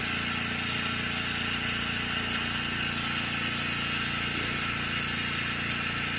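A Specialty Coating Systems G3P 12 spin coater runs up through its speed range, giving a steady, even mechanical hum and whir with faint vibration, constant and alone without talk.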